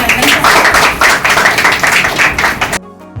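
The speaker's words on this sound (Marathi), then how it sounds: "अभिनंदन टाळ्या" A crowd applauds at the prize-giving of a Navratri fasting-food cooking competition, a dense, loud burst of clapping that stops abruptly.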